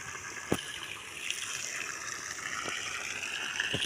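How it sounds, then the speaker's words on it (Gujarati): Irrigation water runs into a vegetable field with brinjal, okra and chilli plants, a continuous nearby rushing and trickling flow with a few sharp knocks or splashes cutting through. "જો ખેતરમાં પાણી દઈ રહ્યું છે."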